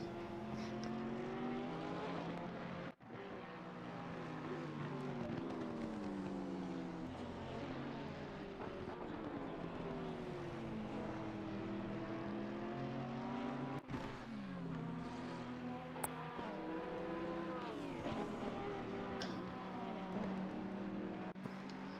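GT3 race cars including a Nissan GTR and a McLaren lap the Barcelona circuit in Assetto Corsa Competizione, engines droning steadily with rising and falling pitch sweeps as they accelerate and shift, a continuous moderate roar throughout.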